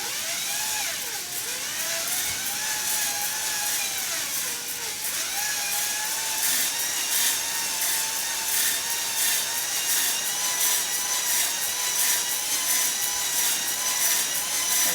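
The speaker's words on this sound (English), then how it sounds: "Just to match the speed of the plunge with the speed of the drill motor." A drill motor spinning a plunging tool inside a cylinder of a Jeep 4.0 engine, a continuous loud whining tone with rising and falling pitch and rhythmic scraping pulses, no talk.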